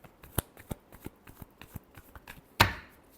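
A deck of tarot cards is shuffled by hand in a quick, rhythmic run of soft riffling taps that ends in one louder snap of the cards. Close, with no speech.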